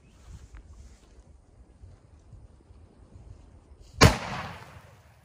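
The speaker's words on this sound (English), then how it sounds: "first shot with the 270" A single sharp, loud rifle shot from a .270 Winchester fired at water jugs outdoors, cracking suddenly after a few seconds of quiet wind noise and then fading in a short outdoor echo.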